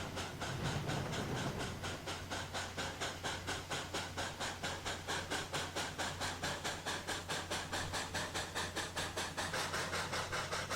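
A train unloading in a train video game gives off a steady, evenly spaced mechanical pulsing over a constant low drone and hiss.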